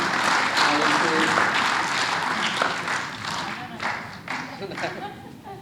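Audience applause at a stage event welcoming a folk singer before a play's performance, a steady wash of many hands clapping that fades and thins toward the end, with a voice briefly under it.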